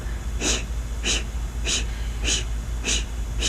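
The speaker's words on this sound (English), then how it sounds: "So this breathing is like blowing out a candle." Forceful yoga breathing in and out through the mouth, like blowing out a candle, six sharp rhythmic breath bursts at even intervals, close and clear.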